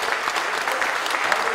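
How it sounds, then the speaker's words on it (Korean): A church congregation at a national prayer-movement gathering claps in thanks, a brief burst of dense, even applause filling the room. "한번 하나님께 박수로 한번 감사 영광을 드립니다"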